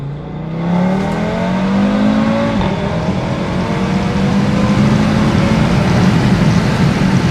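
A car engine with a ported supercharger revs up and accelerates steadily, its pitch climbing through gear changes, heard from inside the vehicle with road noise throughout.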